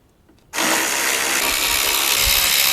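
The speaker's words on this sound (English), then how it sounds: "removing the 1, 2, 3, and 4, as you can see underneath the headlight, 9/32 screws" Power driver backing out 9/32 headlight screws on a Ford F-250, a loud continuous whirring drone that starts abruptly after a brief quiet moment and runs steadily to the end.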